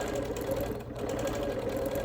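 Sewing machine machine-quilting a wool appliquéd quilt, a steady continuous motor hum with fast even stitching rhythm throughout, fairly loud and close, a brief dip near the middle, with playground sounds faintly in the background.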